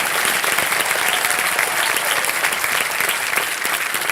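Loud, dense applause from a studio audience on the KBC quiz show set, welcoming the new host; continuous and even throughout with a crowded, enthusiastic texture and no talking.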